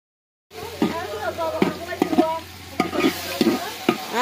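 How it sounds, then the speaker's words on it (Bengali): Biryani being stirred and mixed with turmeric and spices in a pot, a series of repeated scraping strokes of the spoon against the pot over a soft sizzle, close and moderately loud. "বিরিয়ানিগুলা একটু হলুদও দিয়ে দিছি, মশলাগুলো একটু ভালো করে মিক্স করতেছি"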